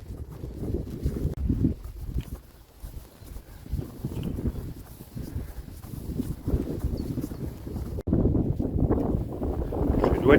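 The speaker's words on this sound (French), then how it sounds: "Je dois dire que ce vent sur la crête, c'est assez désagréable." Steady, blustery wind on a ridge buffets the microphone with low rumbling gusts throughout, loud and close, with no clear speech.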